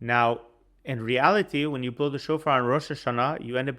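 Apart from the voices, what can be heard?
No distinct noise like a dog, phone or traffic.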